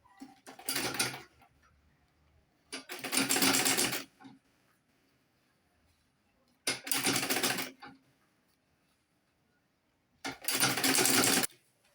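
A sewing machine top stitches a fabric bag in four close, loud bursts of rapid needle chatter, each lasting about one to one and a half seconds, with near-silent pauses between them.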